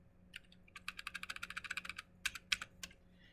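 Rapid plastic clicks of buttons pressed on a TI calculator, a quick run of evenly spaced taps followed by a few sharper isolated presses, close and fairly quiet.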